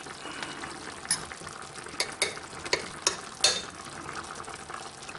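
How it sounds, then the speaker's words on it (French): Lemon chicken simmers uncovered in a pan with a soft, steady bubbling hiss, broken by a few sharp utensil clicks and light stirring scrapes close by. "On laisse mijoter en retournant toutes les 5 minutes."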